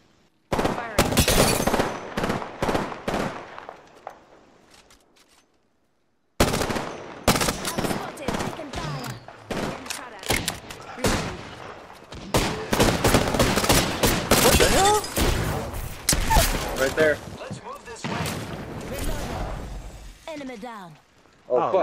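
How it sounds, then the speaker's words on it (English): A small group clapping in thanks after a lecture, steady and moderately loud, gradually fading out to silence. "Hey, gunshots."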